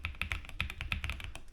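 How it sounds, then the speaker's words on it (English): Clicky switches on a Royal Kludge S98 mechanical keyboard clack in a quick, uneven run of sharp, close keystrokes, heard alone without talk. "It does have a little click to it, but I like that deep-rooted click, click, click, kind of like the old IBM keyboards back in the 80s."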